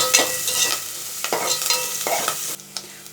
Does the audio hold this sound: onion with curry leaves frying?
yes